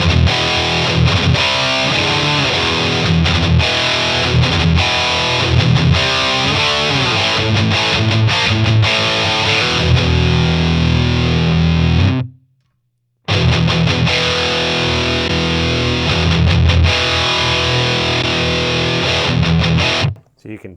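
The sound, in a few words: REVV Generator 120 MKIII guitar amp with fat switch on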